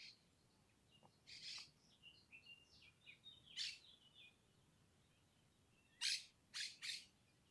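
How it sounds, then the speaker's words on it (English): Several birds chirp and call outdoors in a forest, scattered bright tweets through the first half and then three louder, closer bursts near the end over a quiet background. "Good morning, birds."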